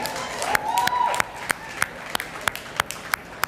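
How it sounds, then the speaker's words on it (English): Audience applause: a burst of crowd clapping that thins into a handful of separate, evenly spaced claps. "Please give yourselves a round of applause for being the hottest audience I've ever seen."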